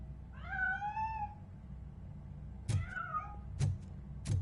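A cat in the RoboCop video game lets out two clear, wavering meows, the second followed by sharp thuds and clicks against a quiet, low game background.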